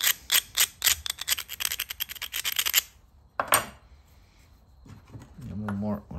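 Flint edge being lightly ground while flintknapping, a fast run of dry scraping, ticking strokes up close, followed by a pause and a brief voice.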